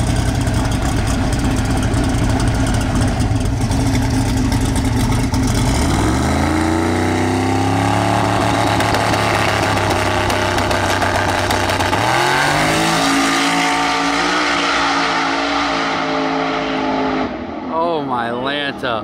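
Mullet's 9.3L SMX big block race car makes an eighth-mile pass on low boost, a loud engine roar climbing through rising pitch sweeps with gear changes, then backing off near the end, with commentary talk over it.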